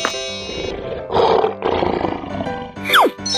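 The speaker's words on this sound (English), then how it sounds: "Lion." A cartoon lion roars in a children's animal game, a loud rough roar followed by a rumbling growl, with no talk over it, ending in a swooping whistle effect.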